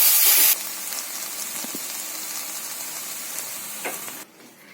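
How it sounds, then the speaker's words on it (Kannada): Cashews and other ingredients for green peas masala sizzle and fry in a pan, a steady close hiss with a louder burst at first and light stirring scrapes, then a sudden cutoff at the end. "ಎಲ್ಲವನ್ನು ಹಾಕಿ ಫ್ರೈ ಮಾಡಿ"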